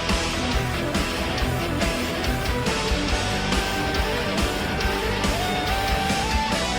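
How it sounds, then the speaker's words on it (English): Uilleann pipes ring out over keyboard and heavy band backing in a live Wacken 2013 performance, a bright reedy melody line weaving above dense, loud, continuous rock accompaniment. "you can hear the distinct sound of the uilleann pipe"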